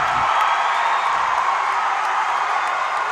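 Basketball crowd roaring at a college championship game in the final seconds, a loud, sustained wash of cheering and whooping from a packed gym with no pauses.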